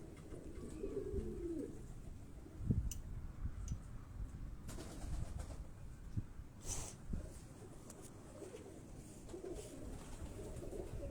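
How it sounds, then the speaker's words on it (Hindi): A pigeon coos in low, soft, repeated calls close by, with a few brief clicks and rustles around it and no talking. "ये कबूतर जो है ये वापस आया है"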